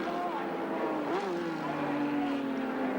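Peter Brock's touring race car roars at Surfers Paradise in 1981, a loud continuous engine drone with shifting pitch and a brief rising sweep while unburnt fuel burns off on the exhaust.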